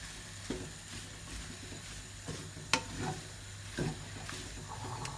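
Peppers and mushrooms for a creamy Cajun pasta sizzle softly in a pan, a quiet steady frying hiss broken by a few light stirring scrapes and clicks.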